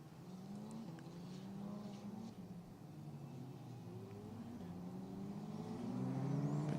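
Formula race cars at Imola running behind the safety car, heard as a steady, distant engine drone with layered overlapping tones that rise slightly toward the end.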